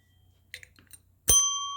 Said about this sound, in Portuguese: o sininho das notificações para que você possa receber mais deste conteúdo